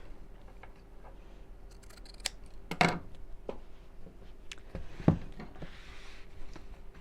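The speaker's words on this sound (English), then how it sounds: "Snip these edge bits off." Scissors snip the fabric edges off a half-hexagon cushion cover, two or three distinct close cuts among quiet handling sounds.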